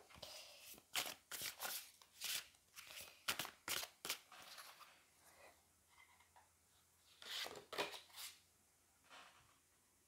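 Tarot cards are shuffled and handled close up in a quiet room, with soft irregular bursts of riffling and sliding card noise separated by brief pauses.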